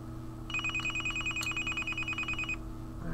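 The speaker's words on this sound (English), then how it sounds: "the phone is just being bombarded with text messages, one right after the other" A phone bombarded with SMS text messages gives a fast, even series of repeated electronic alert tones, about two seconds of rapid pulses at moderate level over a steady background hum, with no talking.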